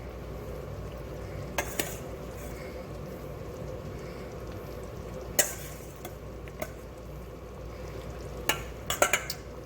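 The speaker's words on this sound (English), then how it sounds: "I'm slowly adding the pasta" Pasta being stirred into a pan that already holds sausage, herbs, garlic and Boursin cheese, with a soft steady sizzle throughout and a few sharp clinks of a utensil against the pan.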